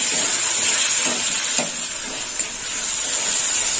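Sour yogurt beaten with salt and sugar goes into a pan of sizzling soybean curry, giving a steady, close hiss and sizzle with faint stirring touches throughout.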